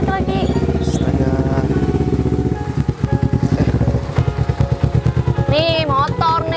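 A motorcycle engine runs with a steady, pulsing throb, loud and close, while people talk over it.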